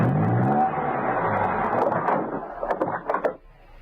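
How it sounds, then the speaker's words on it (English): A car in an audio drama drives up to a house and parks near a tree: a rolling engine rumble that fades down, followed by a few short clunks and thumps as it comes to rest. "He drove up to the house and parked his car conveniently near the tree."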